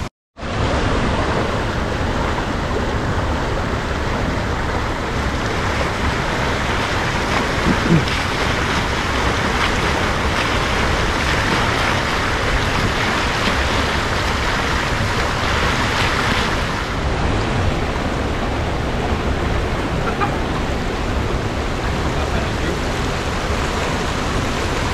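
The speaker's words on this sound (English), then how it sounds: "the water is so strong here right now" Strong, rushing river water at a swimming spot with large pools roars as a dense, steady wash of noise, loud and close, with wind buffeting the microphone and no talking.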